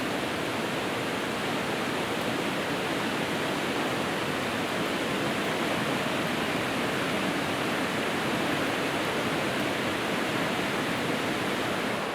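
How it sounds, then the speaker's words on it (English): A mountain river stream in the Colorado wilderness rushes steadily beside a backcountry campsite, a dense, unbroken broadband roar of flowing water, close and loud with no pauses. "Right along this stream here"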